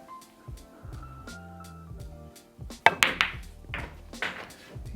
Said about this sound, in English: We're going to hit into this 3 ball just about right there.